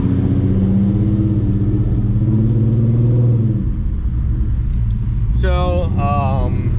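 A V6 car engine idles with an idle chop mod switched on, a steady low rumble that lurches unevenly, joined near the end by a short burst of squealing or chirping tones.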